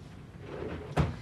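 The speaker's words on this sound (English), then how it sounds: "Miss Susie, is it okay if I go in your drawer?" A bedside drawer thuds shut or slides with a single short knock near the end, following quiet room tone in a care setting, no voices.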